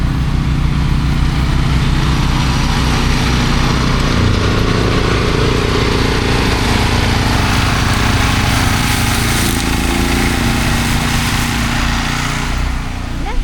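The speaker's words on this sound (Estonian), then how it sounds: "Ta filmis ilmselt seda, kuidas ma siit muruniidukuga läbi sõitsin." A ride-on lawn mower drives past, its small engine droning loud and steady throughout with a shifting pitch as it moves across the yard.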